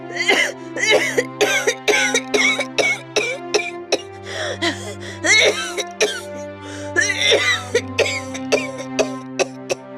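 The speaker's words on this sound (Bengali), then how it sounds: "কি হলো মা, কাশিটা আবার বেড়েছে?" An ill mother in a Bangla cartoon coughing repeatedly, a series of loud close hacking coughs and throat clearing over a sustained musical background.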